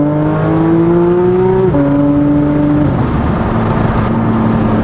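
A Porsche 992 GT3 RS flat-six revs high and loud and climbs in pitch through the gears. The shifts break the sound sharply, and it keeps droning up near its top range with no voices over it.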